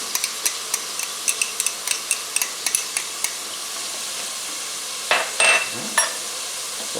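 Ginger and jalapeno being stirred in a pot of Thai chicken meatball soup: a quick run of light spoon taps and scrapes, then a brief louder sizzle and clatter, all fairly close.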